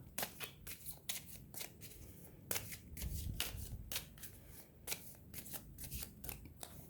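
Tarot cards are shuffled by hand in quick, close riffles and soft slaps, a rapid irregular patter that keeps going without a break and has no talk over it.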